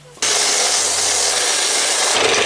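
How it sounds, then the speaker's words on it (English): A belt sander starts abruptly and runs at a loud, steady whine while sanding glued wood segments for a segmented bowl, a constant abrasive roar lasting throughout. "now I'm going to sand all of them down on my belt sander"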